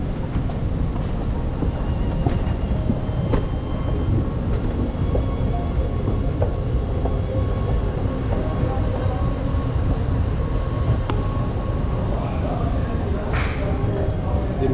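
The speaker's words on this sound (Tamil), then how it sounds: "இதுதான் வந்து நான் ரோட் பாஸ் பண்ணுற மெட்ரோ ஸ்டேஷன்." A metro train passes through a station, its steady rail rumble and rolling clatter filling the background while voices are heard in the clip.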